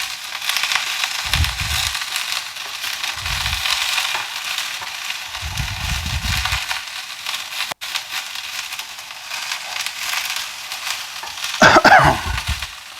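Cauliflower stirred with a spatula in a hot pan, a constant sizzle broken by several low scraping, crunching stirs and a louder clatter near the end.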